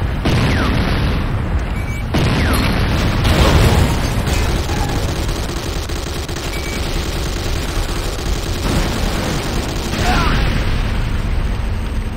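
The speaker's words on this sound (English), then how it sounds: "GDI Tiberium Refinery destroyed." A building blows up as a destroyed GDI Tiberium Refinery goes down in the video game Command & Conquer: Renegade, heavy booming blasts rolling over continuous gunfire and battle noise, loud and dense throughout.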